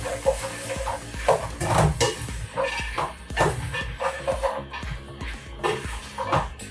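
A spoon stirs a pot of Louisiana red beans with bay leaves, making irregular scraping and clinking strokes against the pot in a loose rhythm, fairly close and moderately loud.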